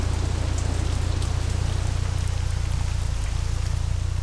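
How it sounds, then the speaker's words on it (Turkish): Steady, even rain pours down throughout in the Assetto Corsa racing game, a dense, constant hiss with no voices over it. "Yağmur yağıyor."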